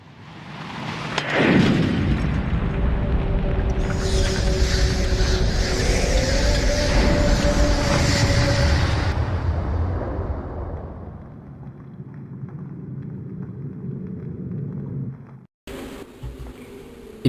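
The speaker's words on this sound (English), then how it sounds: "remember the oil spill earlier? We're just gonna make an explosion." An oil spill ignites into an explosion in Dracula The Resurrection, a sudden loud blast that swells into a long roaring, hissing rumble, fades to a lower drone, then ends with an abrupt cut.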